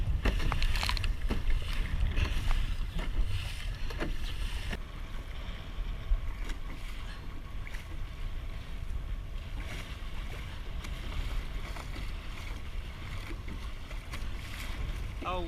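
A sailboat beats upwind on open water around a buoy, with steady rushing wind and splashing water against the hull, heavier gusts early on, then a continuous close wash.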